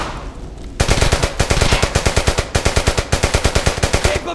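Machine gun fire in a war film battle: after a brief lull, long rapid bursts of loud, close automatic shots crack out in a fast, even rhythm with short pauses between bursts.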